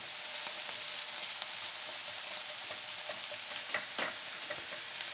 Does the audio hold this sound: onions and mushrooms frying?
yes